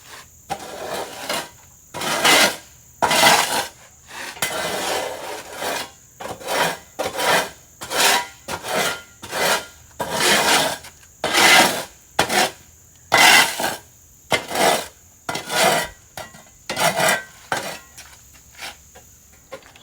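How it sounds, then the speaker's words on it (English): A broom sweeps oil-dry absorbent from a leaking forklift off a shop floor in about seventeen loud, rasping strokes in an even back-and-forth rhythm, each one gritty and close. "So I'm just going to clean up this oil dry."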